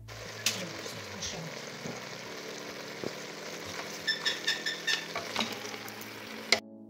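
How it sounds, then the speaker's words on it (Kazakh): Tomatoes fry in a pan for a lecho salad, a steady moderate sizzle close by, with a run of quick light taps and clinks partway through and a sharp knock at the end. "қызанағымызды салып болып, араластырмай тек бетін тегістеп 10 минут қуырмалап аламыз"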